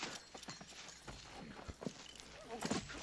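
Hooves clip-clop at a walking pace on hard ground, irregular and moderately close, over a low background rumble with faint voices.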